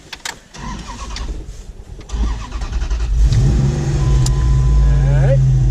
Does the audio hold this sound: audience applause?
no